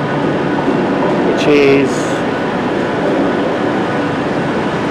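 A train at London Euston station, the front portion bound for Crewe via Birmingham, gives a steady broad rumble throughout, with a brief voice and a short hiss partway through.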